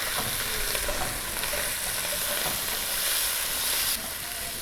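Onions and four large tomatoes fry in a pan for bhindi keema, giving a steady, close sizzle with faint stirring scrapes and no talking.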